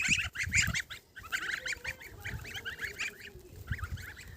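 Many goslings honk and peep in rapid repeated calls, fairly close and continuous, with no speech.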